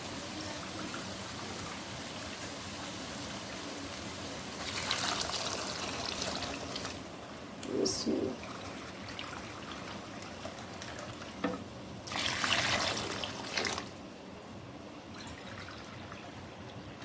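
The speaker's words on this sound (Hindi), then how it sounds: "मैंने इसमें डालना है पानी।" Water goes into a pot of spiced rice cooking for degi-style pulao, arriving in several splashing pours over a low, steady sizzle, close up and without talk.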